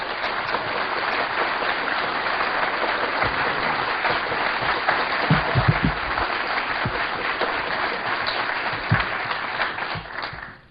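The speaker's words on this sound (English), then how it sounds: "please give a warm round of applause to Mark Phillips and Cathy OBrien" An audience gives a warm round of applause as Mark Phillips and Cathy O'Brien are introduced, a steady wash of many hands clapping that fades out at the end.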